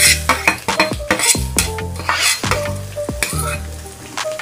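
Chopped onion dropped into a hot pan over a low flame for paneer bhurji, loud close sizzling with a spatula repeatedly scraping and clanking against the metal pan.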